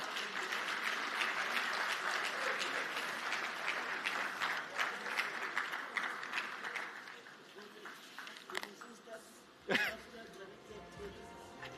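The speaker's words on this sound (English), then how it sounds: "Round of applause, please" A large audience at a trade report launch during a bank's annual meetings applauds, loud dense clapping that gradually thins into scattered claps, with a couple of sharp knocks near the end.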